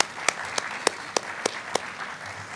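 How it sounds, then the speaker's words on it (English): Six crisp, evenly spaced claps ring out at a slow steady pace, clear against a quiet background hum. "that actually deserves a round of applause"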